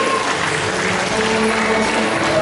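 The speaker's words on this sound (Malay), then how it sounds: "mari kita berikan tepukan yang paling gemuruh untuk Tati Jolina Billy" A crowd claps loudly and steadily throughout at a Kaamatan district festival celebration in Lahad Datu, a dense, continuous wash of hands with no pause.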